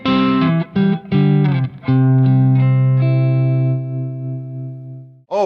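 Heavy distorted electric guitar through a Laney amp with a Maxon overdrive pedal, chugging riffs: sharp palm-muted stabs, then a long ringing chord that fades, loud and alone.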